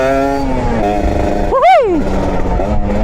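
An old Kawasaki Ninja RR two-stroke motorcycle fitted with a Stang Pro1 exhaust revs up close by. The engine idles under talk, then gives one sharp rising rev that falls away before settling back to a steady idle.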